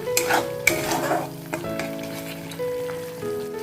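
Paneer frying in a pan while being stirred, a steady close sizzle with scraping stir strokes and a few sharper utensil knocks, no voices.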